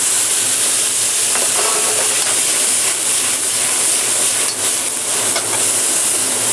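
Garlic and ginger stir-fried in a hot wok, a loud, continuous sizzle and hiss of oil with faint scraping and stirring, and no talking.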